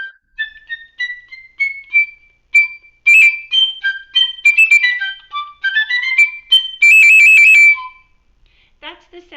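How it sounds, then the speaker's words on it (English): A piccolo plays a high, bright melody of quick runs and held trills in a dry room, with short piercing notes and pauses between phrases. "That's the sound of the piccolo, also in Italian called the piccolo flauto, the little flute."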